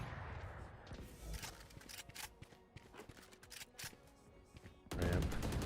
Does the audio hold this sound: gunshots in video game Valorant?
yes